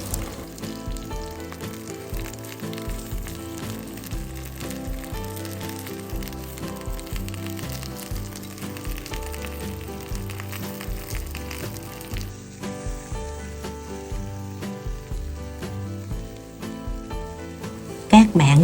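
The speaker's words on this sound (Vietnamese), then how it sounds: "Các bạn chiên cà thấy nó đều cả hai mặt như thế này là được ha" Eggplant slices fry in oil in a pan after being turned to brown on both sides, with a continuous, even crackling sizzle at moderate level throughout and a small clatter near the end.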